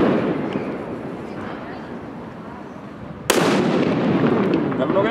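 Firecracker set off during street fireworks in Valencia: a steady hissing rush gives way to one sharp, loud bang with a ringing tail, with people talking nearby.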